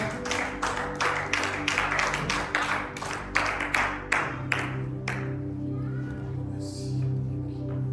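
A church congregation claps for the preacher in a rhythmic burst of hand claps that stops after about five seconds, followed by a held organ-like tone and quieter room sound.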